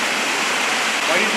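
Water flowing steadily through underground catacombs, a dense, close rushing wash like a small cascade, loud and unbroken for a brief moment.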